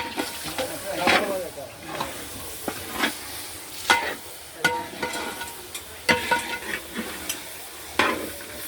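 Onions, tomatoes and spice powders sizzle and fry in a pan for a chicken curry, with steady hissing broken by repeated scraping stirs of a spoon close by.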